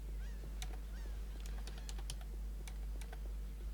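Rapid clicks of typing on a computer keyboard while chatting in Lineage 2 High Five, short bursts of keystrokes over a steady low hum, with faint honking game sounds in the background, no talk.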